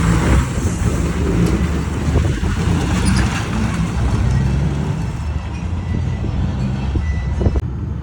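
A Next Gen car pulls out of a gas station amid roadway traffic; a vehicle's engine rumbles close and steady, with a reversing-type beeping and passing traffic noise around it.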